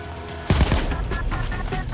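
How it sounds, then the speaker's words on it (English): Celebratory gunfire from the Payday 2 game rattles out in a loud rapid burst of shots, followed by a stretch of scattered, overlapping automatic fire. "Celebratory gunfire."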